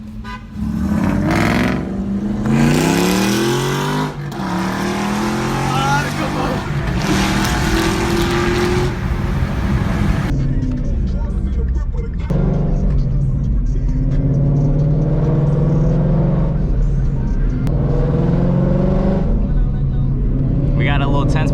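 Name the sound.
2019 Mustang GT 5.0 with E85 tune racing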